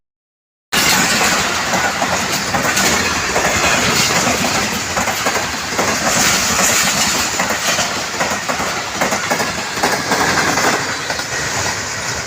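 A train rolls through Mubarakpur, a small railway station, loud and close, with a steady roar and rhythmic clickety-clack of wheels that continues for over ten seconds, and no voices.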